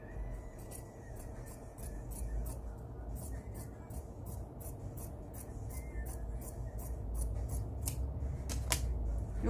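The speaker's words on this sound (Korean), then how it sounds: "표시를 한 상태에서 여기를 이렇게 잘라줄 거예요" Scissors cut through the fabric of a long shirt during an alteration, a steady run of faint, close snips repeating over a low background hum, with no speech.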